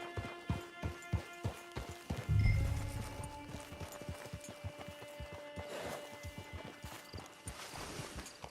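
Horse hooves clip-clop in the Red Dead Online video game, a steady rhythmic trot of distinct hoofbeats close by, with a brief low rumble early on and faint background ambience throughout.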